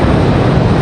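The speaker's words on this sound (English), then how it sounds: "Sounds like we got another departure over on the other side." A jet airliner departing from Raleigh-Durham International Airport roars as a loud, steady, broadband engine rumble with no break.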